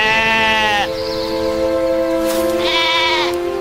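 Sheep bleating loudly and close by, two long wavering bleats separated by a short pause, with steady background tones underneath.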